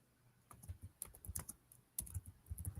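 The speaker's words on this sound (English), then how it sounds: "What are you typing" Typing on a computer keyboard, quiet and close: bursts of soft key clicks in an irregular rhythm, with a short pause before a second run of keystrokes.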